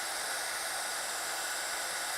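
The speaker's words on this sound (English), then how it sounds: "is that just a standard Crafting heat gun that you're using for our heat embossing?" A standard crafting heat gun runs for heat embossing with a steady, even blowing hiss throughout, loud and close with no other sounds.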